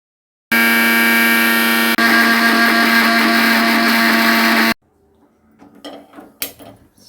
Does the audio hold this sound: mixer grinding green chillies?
yes